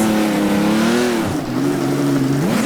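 A Ferrari 250 LM engine revs hard and close in the racing game Assetto Corsa on the laser-scanned Targa Florio road course, its pitch sweeping up and down through gear changes with a brief dip midway, loud and alone.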